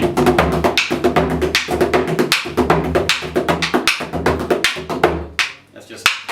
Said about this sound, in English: That's just whacking the stick off the edge of the wood.